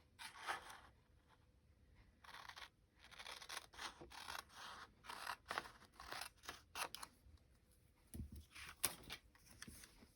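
Scissors cut out a patterned paper piece up close, a run of crisp snips and slicing strokes in irregular bursts with short pauses and faint paper rustle, no talking.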